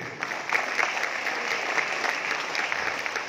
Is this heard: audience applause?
yes